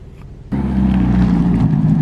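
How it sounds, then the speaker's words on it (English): A Lamborghini sports car pulls up, its engine rumble rising suddenly from a quiet background into a loud, deep, steady drone close by. "Looks like one of the Lamborghinis is showing up right now."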